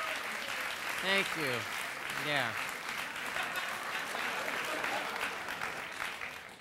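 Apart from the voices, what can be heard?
audience applause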